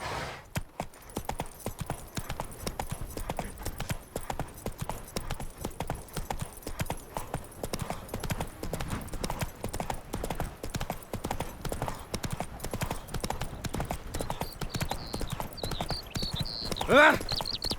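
Roach, a horse in a video game, gallops in a fast continuous clip-clop rhythm throughout, with a brief whinny near the end and people talking over the hoofbeats.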